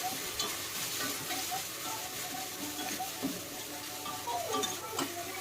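Ginger garlic paste with salt frying in a pan for veg rice, a steady close sizzle with irregular scraping and clinking from a spoon stirring throughout.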